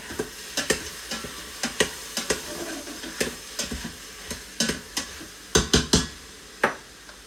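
Meat sautéing in a pan gives a steady low sizzle, broken by frequent sharp scrapes and clacks of a utensil. The stirring comes in quick irregular bursts and is heard close up, with no talking.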